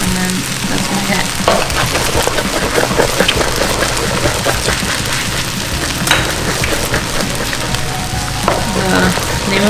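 Egg frying in a hot pan while making egg fried rice, a steady dense sizzle with crackling and spatter running the whole time, loud and close, with no talking.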